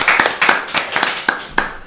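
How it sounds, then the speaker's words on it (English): A small audience claps for a speaker at a gathering, a sparse run of distinct individual hand claps in an uneven rhythm, close and fairly loud, without talk. "Let's give him a round of applause."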